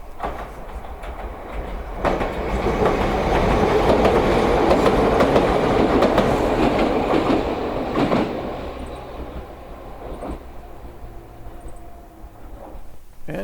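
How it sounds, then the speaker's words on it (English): A train on Japan's Kishigawa Railway rumbles past with a steady clatter. It swells to a loud peak and then fades as it moves away. "wait for the train to pass"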